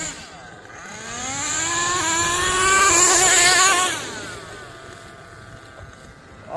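A Kyosho USA-1 Nitro RC monster truck engine screams at full throttle, its pitch climbing through a loud, close rise and then falling away as the truck passes, with wind noise on the microphone.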